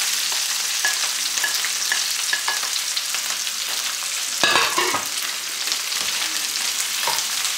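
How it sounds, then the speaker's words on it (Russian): Sliced sausage and onion fry in a pan for a stuffed Spanish-style chicken, with a dense, continuous crackling sizzle close up and occasional scraping stirs, one louder stirring burst midway, and no talking. "Перемешиваем и обжариваем это все"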